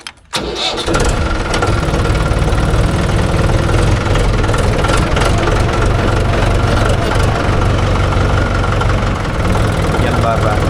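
A Mahindra 575 DI tractor engine catches and settles into a loud, steady diesel chug that runs on continuously at close range, with people talking over it.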